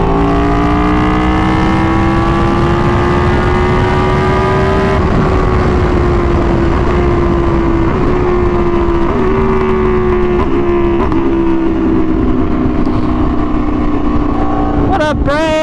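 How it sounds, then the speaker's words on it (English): An Aprilia Tuono V4 1100 naked motorcycle with an SC Project exhaust roars close and loud, the V4 howl climbing through gears with brief dips at each shift and a sharp rev flourish at the end. "Just enjoy the sound of this 1100 V4."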